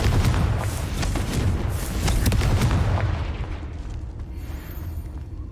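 A Confringo fire-blast spell in the Hogwarts Legacy video game erupts as a loud, booming explosion with crackling bursts, then fades into a lower rumbling tail.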